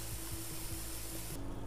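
Water hose spraying steadily onto a mushroom bed of straw and hardwood chips outdoors, a continuous broadband hiss that holds close and loud before easing off near the end.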